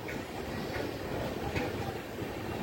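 Pinakini Express train running on rails, a steady close rumble of carriage wheels and rolling noise throughout with faint rhythmic clicks.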